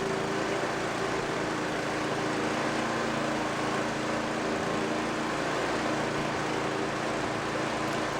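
An 8 hp Noma 27-inch snow blower engine runs steadily after a cold start, a loud, continuous, even drone close by with no voices over it.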